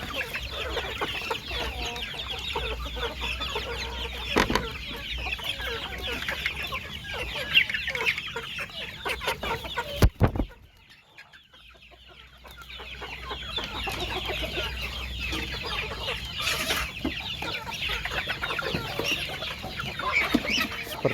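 Free-range village chickens cluck and chatter continuously before feeding in a raised intensive coop, many birds close by. A brief lull falls midway before the busy clucking resumes.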